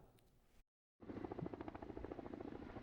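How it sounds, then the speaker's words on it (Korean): A firefighting helicopter hovers over a smoking forest fire on a mountain in Cheorwon, dropping water; steady, loud rotor chop with a dense pulsing beat fills the sound after a brief silent gap, with no voices. "연기가 올라오는 산에 진화헬기가 연실 물을 쏟아붓습니다."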